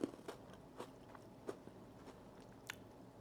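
Someone bites into a chocolate-filled, pretzel-flavored cookie and chews: a sharp first crunch, then several softer crunches spaced out, quiet and close, with no speech.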